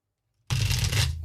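A brief riffle of a tarot card deck being shuffled, a soft papery flutter lasting about a second after silence.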